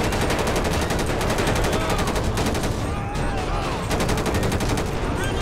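Rapid automatic gunfire from a GTA police-mod shootout rattles in dense bursts, loud and close, with a brief lull midway before the volleys resume.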